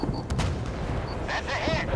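Heavy naval gunfire from a warship in a video game, a few sharp blasts in quick succession followed by a rumbling roar and a whistling tone, loud and continuous over a low background.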